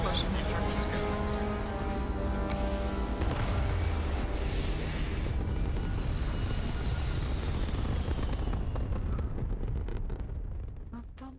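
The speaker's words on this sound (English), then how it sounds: "Liftoff initiated, Captain." A spaceship lifts off in Starfield with a loud, sustained engine roar and rumble that swells and holds before thinning out at the end, with little else audible.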